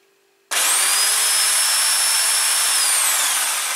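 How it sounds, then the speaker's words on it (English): A car alternator spins clockwise on a test setup. After a brief quiet start, a loud, steady high-pitched motor whine comes in suddenly and holds without a break. "It's rotating clockwise, which is the right rotation for this alternator, and as this spins around"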